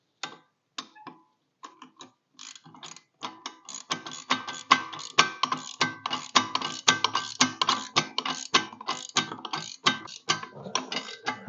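Rapid mechanical ticking and clicking comes from worn carrier bearings on the mid PTO shaft driving a snow blower on a John Deere JD1025R tractor, starting sparse, then settling into a steady fast rattling pulse, close and fairly loud.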